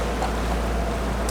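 A 55-foot carbon racer-cruiser sailing yacht motoring under engine power at about 8 knots, giving a steady, continuous low engine drone and rushing water noise with no talk.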